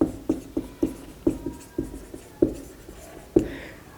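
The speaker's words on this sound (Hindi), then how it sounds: "चलिए, एक तरफ लिखते हैं डिस्टेंस और एक तरफ लिखते हैं डिस्प्लेसमेंट।" A marker or chalk writes the words distance and displacement on a board, giving a series of short, close scratching strokes with sharp taps at irregular intervals and no talking.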